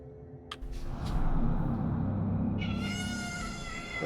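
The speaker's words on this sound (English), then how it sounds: "I have a cat yelling at me." Indoor cat yowling insistently, a drawn-out, loud meow rising after a couple of short sharp sounds over a low steady background hum.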